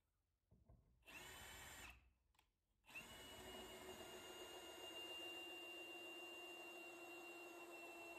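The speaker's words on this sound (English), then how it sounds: "So I'm gonna have to drill it out a little bit bigger." A power drill whirs in short bursts, then runs continuously with a high, steady whine as it bores out a screw hole in an antique apothecary cabinet, close up and loud.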